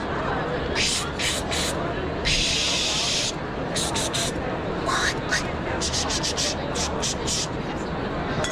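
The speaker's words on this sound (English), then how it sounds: "This is a detail gun, but I didn't want to put it in my suitcase, right? And I spray like this." A detail spray gun sprays glaze onto a ceramic pot, hissing in short repeated bursts with one longer blast, close and loud, over a steady background hum.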